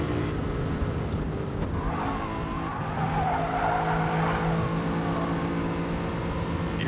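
Race cars braking hard in a sim racing game, with tires skidding and squealing over steady engine drone, continuous and fairly loud throughout.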